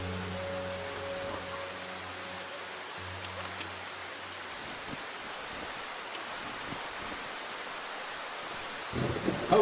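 Rain falls in the video game Darkwood as a constant soft hiss, with a low humming drone that fades out partway and a faint rumble near the end.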